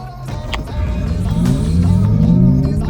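Xiaomi SU7 Max electric car accelerating, a loud rising whine and road roar swelling steadily from inside the cabin with no talk.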